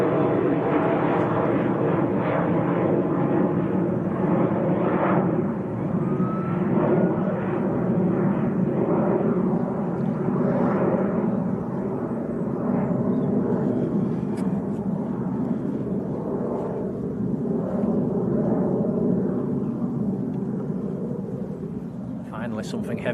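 An airliner taxiing at Manchester Airport gives a steady, broad engine roar that holds at a fairly constant level throughout, with people talking over it.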